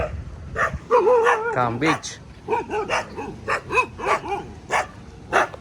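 Dogs bark in short, repeated yaps and yelps at Candolim beach in Goa, mixed in with someone talking close by throughout.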